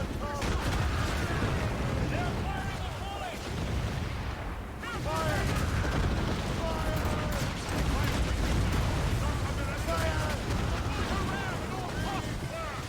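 Naval mortar fire during a ship battle in Assassin's Creed Rogue, heavy booming blasts rolling over a constant wash of sea and wind, repeated across the stretch with mechanical clatter and a player's voice talking over it.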